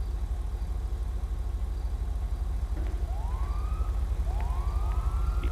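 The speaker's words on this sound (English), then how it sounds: "The police sirens echo outside for a while," Police car sirens in a Los Santos video game wail outside, rising sweeps at a moderate distance over a steady low rumble of city and engine noise.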